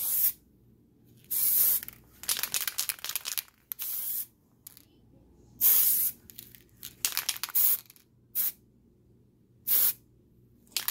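Spray paint hisses from an aerosol can as a faux marble finish is applied in a kitchen, in about eight separate bursts of varying length with quiet gaps between them, close and fairly loud.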